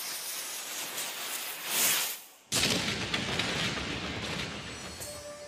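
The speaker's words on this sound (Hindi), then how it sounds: "घबराए अंग्रेजों ने तोप चलाने का इशारा किया।" A single loud boom bursts out suddenly after a whooshing swell, followed by a lingering roaring rumble that slowly fades, like a cannon shot.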